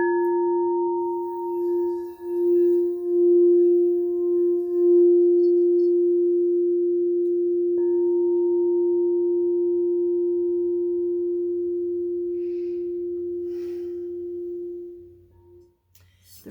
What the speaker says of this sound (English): Do the singing bowl.